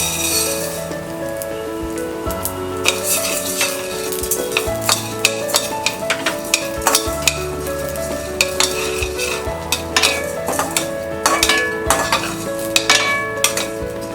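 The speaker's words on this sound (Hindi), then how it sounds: "उड़द दाल भी फ्राई हो गया है।" Urad dal frying in a little oil in a pan, a soft sizzle under repeated stirring scrapes and rattling lentils, set against quiet background music.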